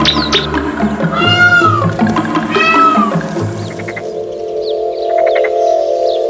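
A domestic cat gives several drawn-out meows, loud and close, with a busy background hum running underneath and no talking.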